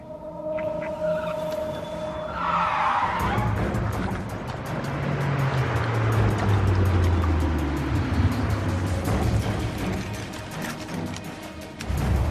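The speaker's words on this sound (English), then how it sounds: "Keep the motor running." A car engine runs in a racing game, a sustained loud rumble whose pitch swoops up and down after a brief higher-pitched burst at the start.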